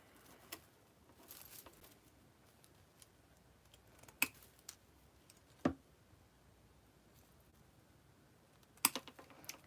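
Wire cutters snip through artificial flower stems in a few sharp, isolated clicks scattered between quiet rustling, close and faint overall.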